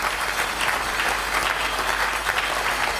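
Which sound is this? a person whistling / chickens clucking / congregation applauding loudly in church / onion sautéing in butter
congregation applauding loudly in church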